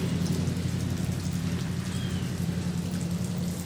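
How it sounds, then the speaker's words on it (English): Steady rain falls throughout, a dense, even patter with a low constant rumble beneath, no voices over it. "She can't do much because it's raining."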